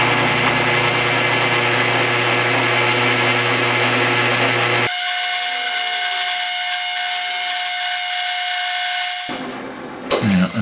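A motor-driven wire wheel whirs and grinds loudly and continuously as it strips rust from old Walker Turner jigsaw parts, changing pitch midway before spinning down at the end.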